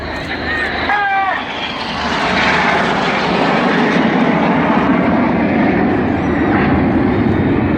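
Red Arrows display jets passing at an evening airshow in Sunderland, a loud continuous jet roar swelling and holding close overhead while a commentator talks throughout.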